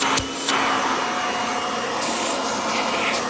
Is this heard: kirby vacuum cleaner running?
yes